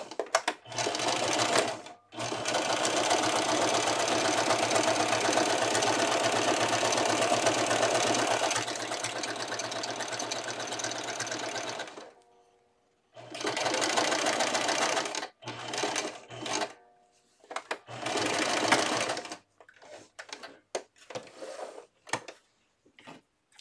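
A sewing machine runs in long bursts while stitching an elastic casing in thick fabric for a cloth diaper, with a steady mechanical whir, then several shorter start-stop runs separated by pauses.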